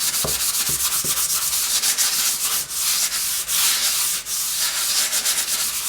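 Steady dry rubbing of an unscented embossing pad or ink item across cardstock for scrapbooking, a continuous close scratchy swish with brief pauses and a few light taps at the start, no voices.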